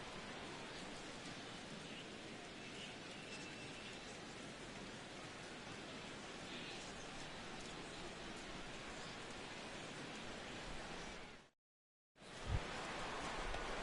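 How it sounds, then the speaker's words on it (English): Steady rain falls over a baseball stadium during a game, a dense even hiss that holds for most of the stretch, briefly cuts out, then returns with a soft thump. "as the rain continues to fall here"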